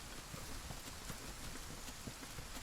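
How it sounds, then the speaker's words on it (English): Steady rain falls in the video game Monster Hunter: World, a continuous hiss of drops spread evenly through the whole stretch at a constant moderate level, with no voices over it. "And it started to rain."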